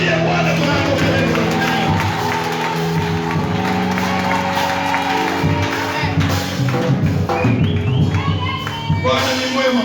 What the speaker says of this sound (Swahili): Mshangilie Bwana kwa makofi.